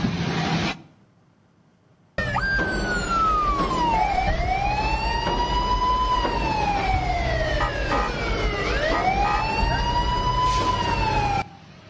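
An emergency-style siren fitted to a civilian minibus wails in long rising and falling sweeps, loud and close, running continuously for several seconds after a brief quiet gap.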